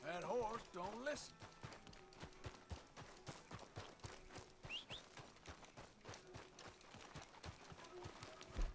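Horse hooves gallop in a video game as a Black Arabian horse runs, giving a quiet, steady, rapid clip-clop rhythm while a person talks over it.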